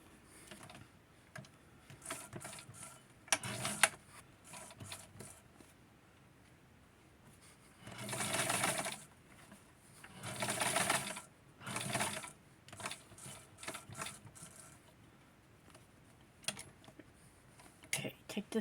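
A sewing machine stitches a small Ken doll shirt in short and longer bursts of rapid mechanical whirring, separated by quiet gaps with faint handling clicks and occasional talk.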